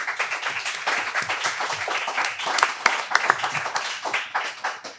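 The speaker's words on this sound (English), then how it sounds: "please let's give them a big round of applause" A conference audience gives panelists a big round of applause, sustained crowded clapping with individual sharp claps standing out, fairly loud and continuous across the whole stretch.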